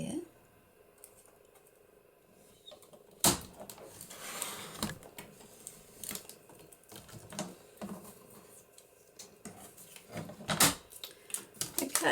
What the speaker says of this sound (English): I'll get my trimmer back and cut that there.